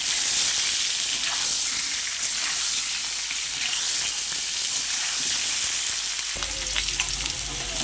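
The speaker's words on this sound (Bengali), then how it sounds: "আলুগুলো লাল লাল করে ভেজে নেব" Potatoes frying in oil with salt and turmeric, a loud, dense, continuous sizzle heard up close, with a low hum entering near the end and no talking.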